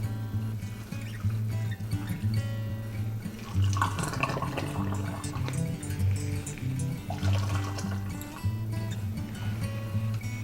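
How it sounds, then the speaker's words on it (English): Golden pickle brine poured into canning jars, a steady splashing and trickling of liquid lasting several seconds, close and continuous. "let's add this beautiful golden brine."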